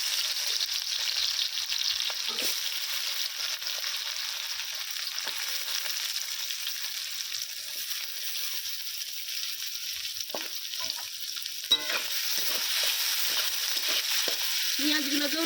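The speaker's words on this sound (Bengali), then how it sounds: "লাল লাল করে ভেজে নেব পেঁয়াজটা" Onions fry in mustard oil in a wok with a constant bright sizzle, and occasional stirring scrapes and a sharp tap stand out near the end.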